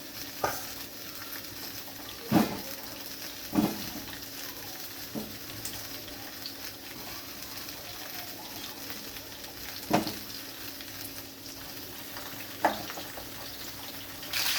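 Cauliflower and potato pieces fry in hot oil in a pan with a soft, continuous sizzle, broken by occasional sharp knocks of a stirring utensil.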